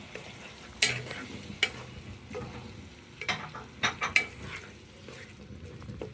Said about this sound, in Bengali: মাথাগুলো ভালো করে কষিয়ে নিচ্ছি